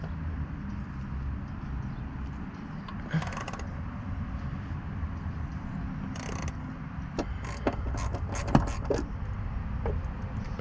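A Torx bolt on a Jeep XJ is worked loose with a ratcheting tool, giving faint mechanical clicks and a cluster of sharper metallic ticks near the end over a low steady background hum.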